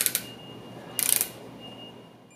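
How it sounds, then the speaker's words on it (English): A torque wrench tightens the cover bolts on a General Pump 71 Series pump, giving two brief bursts of rapid ratcheting clicks, close and crisp, against a quiet room hum. "Use a torque wrench to tighten the bolts to the specifications."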